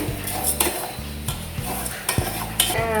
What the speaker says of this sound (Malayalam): അപ്പം നന്നായി ഇളക്കിക്കൊണ്ടിരിക്കുക ഇളക്കിക്കൊണ്ടിരിക്കുക അത് ഉരുകുന്ന ഉരുകാൻ വേണ്ടിയിട്ടാണ്